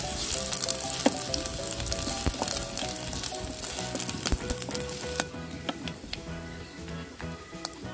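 Garlic frying in oil in a pan, a dense close crackling sizzle with scattered sharp pops and ticks throughout, steady and unaccompanied by speech.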